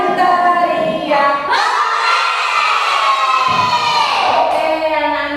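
Children shouting together during a classroom game, a loud, sustained group yell with rising and falling voices, close and filling the room.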